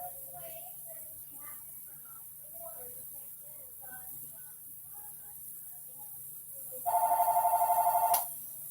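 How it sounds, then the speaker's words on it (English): A telephone bell rings in one loud, rapid trilling burst near the end, after quiet speech in a calm indoor yoga session. "Sorry about the ringing, I forgot about that."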